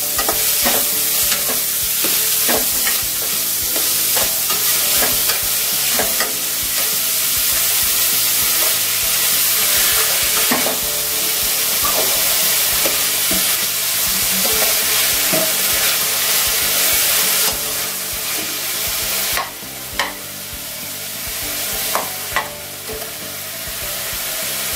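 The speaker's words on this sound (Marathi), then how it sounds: "परतून घ्यायचं आहे।" Ingredients for dal khichdi are sautéed in a hot pan, making a loud, continuous sizzle throughout, broken by repeated scraping stirs of a spoon against the pan.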